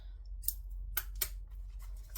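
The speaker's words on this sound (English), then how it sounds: "It will also help if I had sharp enough scissors to cut." Quiet, crisp snips of scissors cutting through fabric, four or five brief cuts over a low steady hum, close and otherwise silent.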